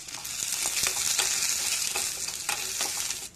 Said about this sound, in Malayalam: ഒരു ചെറിയ ചട്ടി അടുപ്പി വെച്ച് കുറച്ച് എണ്ണ ഒഴിച്ചിട്ട് ഒരു 5-6 ചെറുള്ളി ഇട്ടൊന്ന് മൂപ്പിച്ചെടുക്കാം.